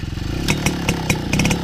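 A MBK 881 moped fitted with a Polini engine fires up and runs loud and close, a rapid rattly two-stroke putter with clattering knocks and uneven bursts of revving.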